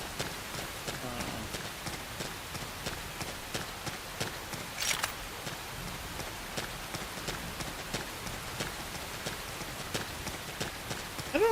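Rain falling in Xenoblade Chronicles X, a steady soft patter of drops on the ground, faint and continuous with scattered louder hits.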